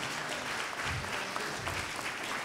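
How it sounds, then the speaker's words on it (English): A Seventh-day Adventist congregation in West Philadelphia applauds during a Founders Day worship service, a dense, even round of clapping that fills the whole short stretch. "Let's give him a round of applause, please."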